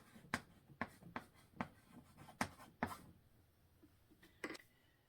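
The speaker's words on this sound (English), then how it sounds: "I'm going to go ahead and write that over here." Quiet pen strokes on paper come as a series of short, sharp scratches and taps, about a dozen spaced irregularly over five seconds, close and faint against a hushed room with no speech.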